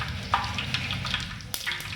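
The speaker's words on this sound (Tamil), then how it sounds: "தாளிப்பு நல்லா ஃப்ரை ஆகி வருது." Whole spices such as mace, fennel and black peppercorns temper in hot oil for a large batch of chicken gravy, giving a continuous soft sizzle with a few sharp crackles and scraping taps.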